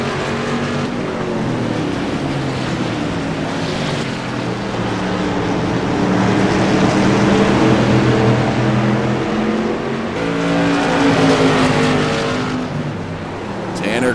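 CRA modified race cars lapping Martinsville Speedway, engines droning and rising in pitch as the pack passes, with a swelling roar near the middle and end under steady race commentary.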